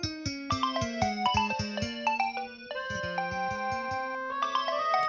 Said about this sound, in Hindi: अरे ये तो मेरा फ़ोन है